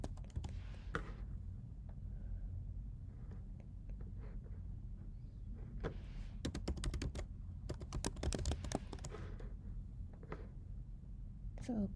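Quiet clicks of typing on a computer keyboard come in scattered bursts and a quick run of keystrokes, under a person talking.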